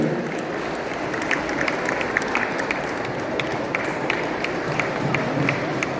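An audience at the 6th International Thirukkural Conference in Toronto applauds a guest called to the stage, a continuous, even wash of many hands with a crowd murmur beneath.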